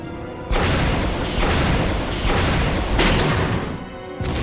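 Rocket launcher blast and explosions in Resident Evil 1 HD, a loud booming burst that swells and rolls on for several seconds, then cuts to a quieter pause and a fresh rumble at the end.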